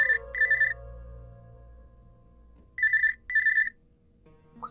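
A telephone rings in a quiet home, two double-burst rings separated by a pause of silence, close and clear with no talking.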